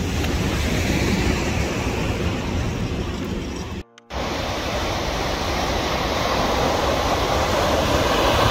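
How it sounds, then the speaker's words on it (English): Continuous wash of ocean surf on the coast near Porto, a broad steady rush with slight swells in loudness, interrupted by a brief dropout midway, no talking. "You're just listening to the waves and the smell of the ocean."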